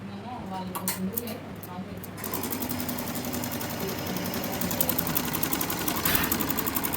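A computerized embroidery machine starts up and runs, its needle stitching a design with a steady, fast mechanical whirring and rapid clatter that grows slightly louder, while someone talks over it early on.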